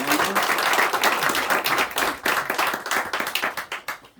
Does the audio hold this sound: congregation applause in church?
yes